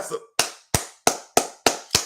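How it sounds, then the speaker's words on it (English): Six sharp hand claps in a steady, evenly spaced rhythm, loud and close, following a brief bit of speech at the start. "I got to clap myself on that one."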